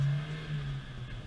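A truck engine drones steadily from inside the cab while accelerating through the gears from first, a low hum that rises and eases slightly over a brief moment.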